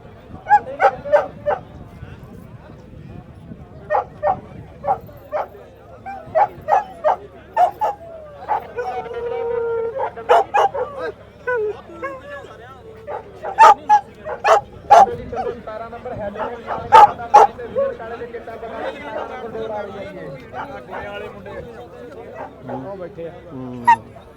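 Dogs bark repeatedly in irregular clusters of sharp yaps and barks, fairly close, while people talk throughout.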